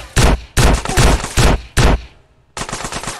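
Combat shotgun blasts in GTA San Andreas Definitive Edition: five loud, close booming shots in a steady rhythm, each with a short crackling tail, a brief pause, then a sixth shot.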